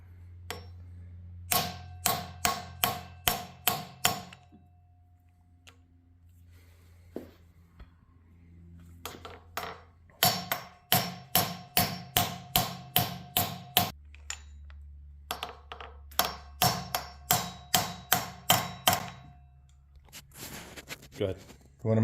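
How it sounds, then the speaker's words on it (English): Pilot bearing hammered into an LS3 crankshaft, a series of sharp metallic taps in quick rhythmic bursts separated by pauses, close and loud, over a low steady hum from the garage with voices in between. "putting in the pilot bearing right now"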